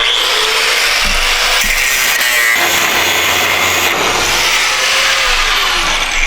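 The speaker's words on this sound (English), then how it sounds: "Now we're on to the grinder." Angle grinder cutting through a stuck bolt while a dump bed is removed from a 7.3 Powerstroke truck, giving a loud, continuous abrasive whine with grinding shifts and brief catches, close up and without talking.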